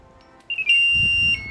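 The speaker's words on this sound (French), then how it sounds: "il y a une alarme de pompiers qui s'allume pour nous prévenir que la centrale n'est pas éteinte" A Nash Siren R4 receiver for fishing sounds a fire-brigade-style warning tone to signal that it is still switched on: a shrill, steady electronic beep, close and clear, starting after a short hush and holding on over a low rumble.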